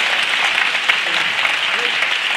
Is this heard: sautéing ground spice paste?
no